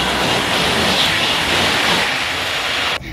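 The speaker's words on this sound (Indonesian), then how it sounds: "Wow, lalu juga ada kereta cepat teman-teman" A passing high-speed train gives a loud, continuous broadband rush of air and rail noise that holds steady for about three seconds and then cuts off abruptly. No voices are heard over it.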